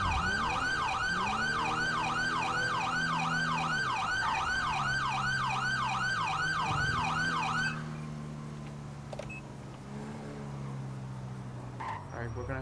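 Police car siren in the GTA V LSPDFR mod, a loud wailing siren cycling steadily over a low engine hum for about eight seconds, then cut off, leaving quieter road and engine noise.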